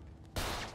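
A loud gunshot burst in GTA 5 role-play breaks in abruptly after a quieter stretch and rings out with a broad blast through the rest of the moment.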